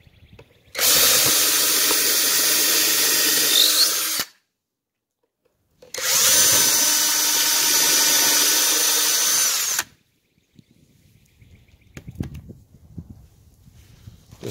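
Power drill driving construction screws into a wooden raised garden bed, two long steady whirring runs of about three seconds each separated by a pause, followed by faint clattering and handling noises.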